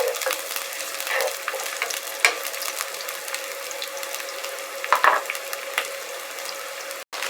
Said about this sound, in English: Now you want to add your shallots. And you know, we're just going to stir these around so they start to get soft a little bit.